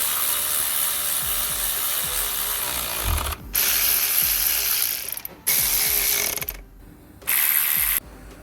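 Hand ratchet tightening a bolt on the power steering pipes of a 2011 Ford Focus, three bursts of rapid close clicking separated by short pauses, no talking.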